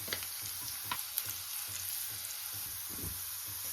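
Garlic, curry leaves and turmeric frying in hot oil for a tomato pachadi tempering, a steady close sizzle with occasional soft pops and stirring clicks, no talk.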